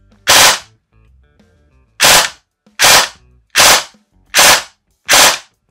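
A CYMA CM.131 airsoft gun fires sharp, loud, clipped shots close up: one single pop, a pause, then five more cracks in an even rhythm, with near silence between them.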